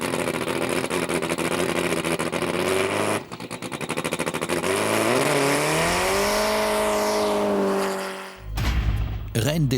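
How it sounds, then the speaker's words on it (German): A Formula 1 car does a burnout before a quarter-mile drag race against a jet on an uneven airfield runway, its loud sustained engine roar rising in pitch with squealing tyres, then cutting off sharply near the end. "Pflicht vor dem Rennen, der Burnout. Nur angeheizte Reifen haben den nötigen Grip."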